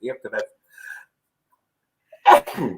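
A short burst of voice sounds, then a pause and a sharp, sudden sneeze up close, with brief speech around it.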